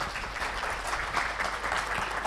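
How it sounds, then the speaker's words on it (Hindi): An audience claps for themselves at a devotional gathering, a continuous even wash of many hands clapping at close range, with no speech over it. "अपने लिए ताली भी बजा सकते हैं।"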